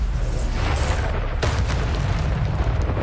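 An explosion from the Bombarda spell in the Hogwarts Legacy video game, a loud, rumbling boom with a sharp burst partway through, set against constant heavy game noise.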